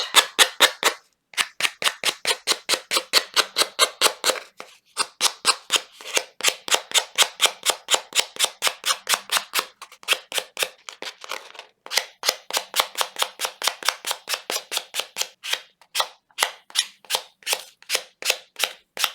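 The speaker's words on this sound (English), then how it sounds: "as I'm sanding down, it just takes off any extra paper off the edge" Rapid, steady rasping strokes of sandpaper against a paper edge, a fast scratchy rhythm with a few brief pauses, close and fairly loud.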